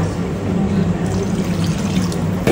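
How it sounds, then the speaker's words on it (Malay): Water is poured into a coconut milk curry for asam lemak bunga kantan, a steady close trickle and splash over a low kitchen hum, with no voice heard. "Kemudian kita nak tambahkan sedikit air supaya dia berkuah."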